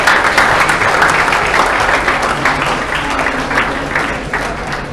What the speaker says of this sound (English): So can we please have a huge round of applause for UNGA.